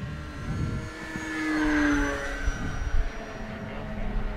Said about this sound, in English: Not a bad little flying plane